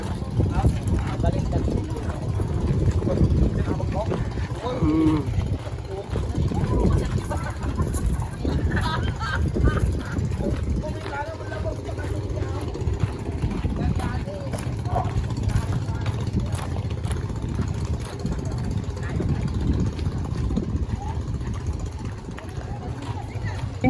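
A small boat's motor drones steadily throughout on an island tour, with people talking over the running motor.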